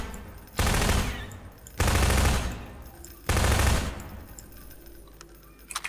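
Three sustained bursts of rapid automatic gunfire aimed at enemies in Half-Life 2, each about a second long and loud, with short pauses between and faint clicks after.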